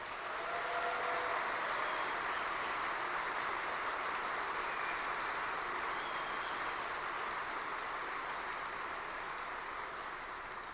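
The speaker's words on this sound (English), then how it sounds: "Let's give that guy a round of applause." A convention audience at the NRA-ILA Leadership Forum in 2023 gives sustained applause honoring a Good Samaritan, the dense clapping spreading through the hall at an even, unbroken level for about ten seconds with no talking over it.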